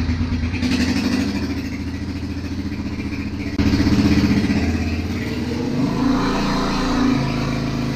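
An Italika FT150 motorcycle engine idles and is revved, a close rough clattering drone that steps up sharply in loudness midway and then rises and falls, with no talk.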